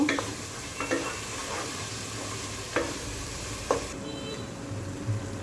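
Masala for chicken curry stir-fried in a pan, a low steady sizzle broken by a few sharp spatula scrapes and taps, close and moderately loud.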